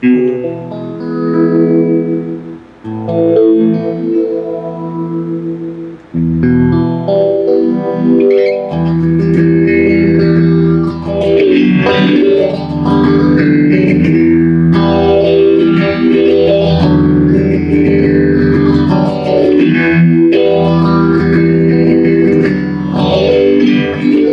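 Electric guitar through a Johnson Millennium Stereo 150 amp on its Steely Phaser preset, strummed chords with a sweeping phaser swirl rising and falling in slow repeated arcs, loud and rich, no voices.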